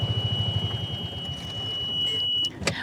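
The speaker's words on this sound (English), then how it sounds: "I'll have to wait till that stops beeping." Golf cart reversing alarm beeps in a steady pulsing run over a low engine and road rumble, then stops, with a steady high tone continuing underneath.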